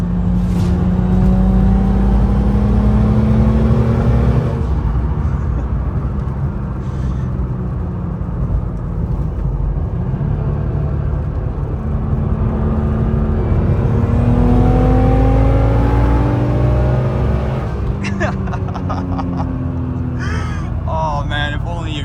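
A rebuilt BMW N54 engine in an M3 clone, still being broken in, revs up loudly through the gears, its pitch rising and dropping with each shift, heard from inside the car with voices present.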